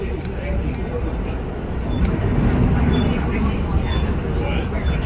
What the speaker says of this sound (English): I think this this coal train is either going slow or just stop